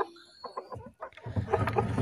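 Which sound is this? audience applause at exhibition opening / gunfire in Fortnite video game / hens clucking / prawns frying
hens clucking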